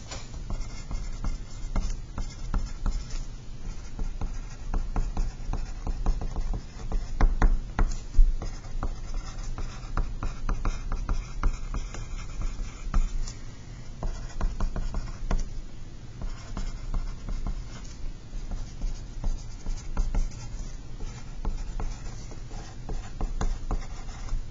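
A pen scratches continuously across paper while Cornell-style notes are handwritten, a soft, close, unbroken scribbling texture with small pauses between strokes.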